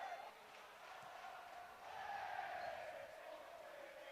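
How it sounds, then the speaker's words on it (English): Falkirk football supporters cheer from the stands at a St Mirren versus Falkirk match, a sustained distant roar of the crowd that swells in the middle and holds steady throughout. "the Falkirk fans behind us to our left-hand side, cheering on their favourites"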